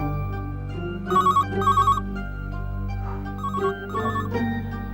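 An office telephone ringing in repeated electronic bursts, loud and close, two quick trills followed by a pause and further rings, layered over a steady background music bed.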